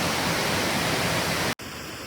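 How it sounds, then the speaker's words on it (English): Steady, loud rush of falling water from a waterfall in Boston, a dense continuous roar that cuts off abruptly near the end to a quieter hiss. "The Boston waterfall."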